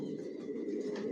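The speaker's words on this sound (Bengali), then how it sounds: "টপ কোয়ালিটির কবুতর পালি, এগুলো আমার বিডার।" Racing pigeons kept as top-quality breeders coo softly and steadily close by, a low, rounded warble with no talk.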